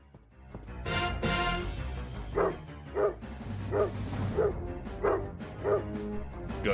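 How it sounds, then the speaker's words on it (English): A dog in a cell barks repeatedly in the video game Blue Stinger, short evenly spaced yaps over a busy background of game sound, fairly close and loud. "talk to the dog in the far cell"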